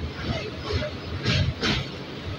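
A train pulls into Howrah station with a broad rumbling roll, brief hissing bursts and faint wheel noise, with a murmur of people in the carriage under it.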